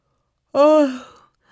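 A giant's big yawn is voiced by a storyteller, a single drawn-out, breathy vocal sound that rises and fades over about half a second, close and alone.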